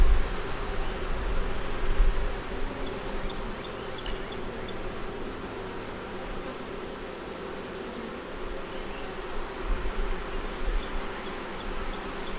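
Honey bees buzzing around an open hive during a frame inspection, a dense, steady hum of many insects close by that persists throughout the clip with slight swells in loudness.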